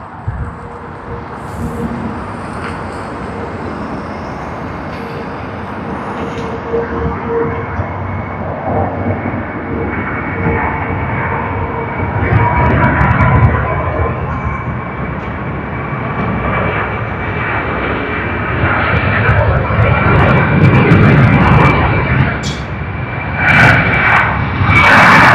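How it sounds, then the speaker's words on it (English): Jet airliner engines spool up during a takeoff roll at Sydney Airport, a loud sustained roar with a rising whine building steadily over the length, near and alone without talk. "the takeoff roll has begun. As you can see, you will also able to hear the engines spooling up"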